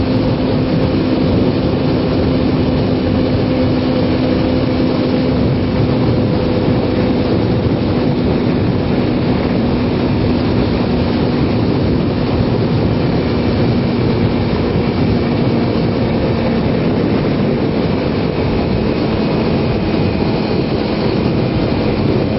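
Kawasaki Ninja 250 motorcycle being ridden with high beams on in December, giving a steady, loud engine drone mixed with constant wind rush that holds for the whole stretch with no talking.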